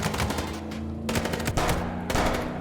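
Gunshots fired at a car tire in Chicken Police: a steady, loud stream of rapid rounds with a few sharper cracks, continuing without pause and without talk.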